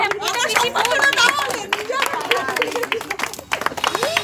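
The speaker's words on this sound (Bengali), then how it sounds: "হাততালি একটা।" A neighbourhood crowd at a Saraswati Puja gathering claps hands while many people talk and call out loudly over and around the scattered clapping.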